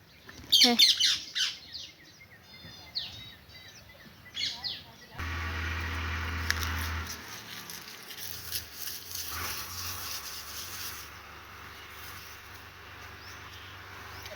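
Loud, harsh squawks from two parrots burst out at the start in the morning, then scattered shriller calls follow over rumbling background noise, with some voices nearby.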